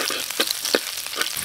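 Turmeric and ginger sizzle in a hot pan with a dense, close hiss, broken by several soft stirring knocks.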